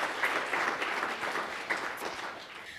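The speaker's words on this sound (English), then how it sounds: "just a little round of applause" A lecture audience gives a short, soft round of applause, a dense, even patter of many hands clapping that tapers off slightly over a few seconds.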